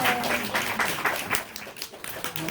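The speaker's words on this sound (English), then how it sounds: "can we have a nice round of applause for Tim" A small audience gives a scattered round of applause for a man heading up on stage, with uneven individual claps rising and falling rather than a dense roar and a voice briefly audible near the start.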